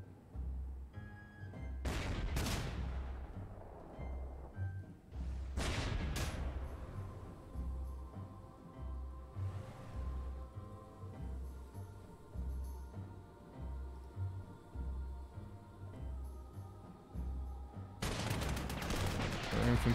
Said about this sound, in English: anti-tank gun goes against the recon vehicle first